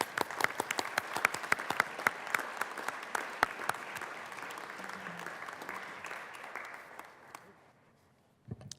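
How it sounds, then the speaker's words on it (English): Senators in the Colorado Senate chamber applaud, with sharp, distinct claps from a modest group that thin out and fade into quiet room tone, a final clap sounding near the end. "we applaud you for your service."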